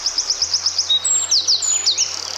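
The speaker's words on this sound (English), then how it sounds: "They make a variety of harsh sounds, like churs and chatters and rattles." Wren calling, a rapid series of sharp high chirps followed by a few harsher scratchy notes, close and clear with no other sounds.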